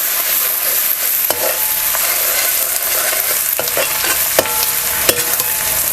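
Finely chopped onion fries in hot oil for egg biryani: a constant bright sizzle, close and fairly loud, broken by scattered clicks and scrapes of stirring.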